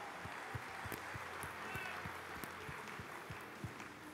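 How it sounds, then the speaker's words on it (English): A crowd at the Arnold Strongman finals applauds with a steady wash of clapping, punctuated by sharper low thumps at a regular pace, heard from a distance without clear talk. "Big round of applause for Mikhail Shivlikov from Russia"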